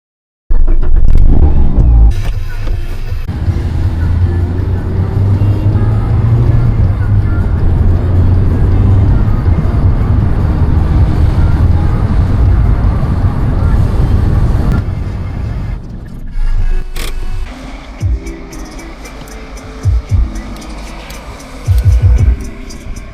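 A Mazda Miata drives along the road with a steady engine drone and low rumble, loud and close inside the cabin, then eases off toward the end, leaving a quieter hum with some knocks and rustles.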